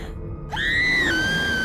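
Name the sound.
woman screaming in video game What Remains of Edith Finch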